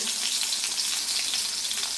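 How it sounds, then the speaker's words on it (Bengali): Whole cumin seeds and bay leaves hit hot oil left over from frying rohu fish, giving a loud, continuous, close-up sizzle that stays steady throughout. "আর এই তেলেই আমি দিয়ে দিব ফোড়ন, গোটা জিরা আর তেজপাতা"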